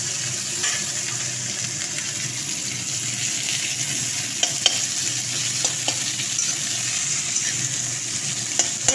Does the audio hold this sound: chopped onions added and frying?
yes